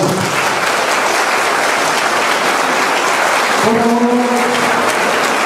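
Loud, sustained applause from a church congregation welcoming a pastor, steady and dense throughout, with someone speaking briefly over it near the end.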